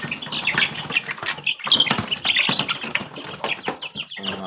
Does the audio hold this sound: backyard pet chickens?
yes